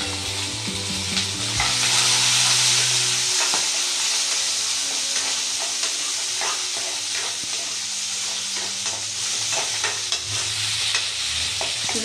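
Small onions sautéing in a pan for a Tamil lunch of broad bean poriyal and okra curry, a steady loud sizzle with scraping stir strokes throughout, no voices.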